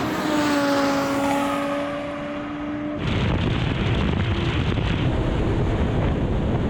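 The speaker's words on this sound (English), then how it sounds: "Oh, here comes the rally car now." An Audi Sport Quattro rally car's engine rises in pitch as it approaches, then a loud rushing roar takes over as it passes close, with wind buffeting throughout.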